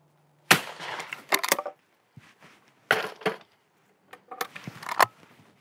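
Over-under shotgun shots at going-away and crossing clay targets ring out as sharp, loud blasts, two separate pairs spaced a few seconds apart, each crack trailing into a short outdoor echo.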